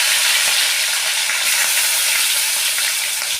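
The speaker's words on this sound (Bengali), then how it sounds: "আমি তেলের মধ্যে গোটা এলাচ লবঙ্গ দারচিনি গোলমরিচ ফোড়ন দেবো, দিয়ে টমেটোগুলোকে ভালো করে ভাজতে দেবো।" Tomatoes with whole cardamom, cloves, cinnamon and peppercorns fry in hot oil, a loud, dense, continuous sizzle close up that cuts off abruptly at the end.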